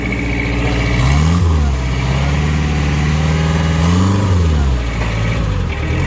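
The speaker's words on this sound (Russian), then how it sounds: "Вот его максимальные обороты фактически были достигнуты. Очень быстро, очень четко отзывается на газ." A Mitsubishi MXR35 mini excavator's diesel engine revs up to maximum, pitch climbing, holding high and steady for a few seconds, then dipping and rising again, loud and close.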